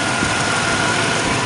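A Buick Roadmaster engine idles steadily with a dense, even rumble and hum, loud and close, with no other sounds over it.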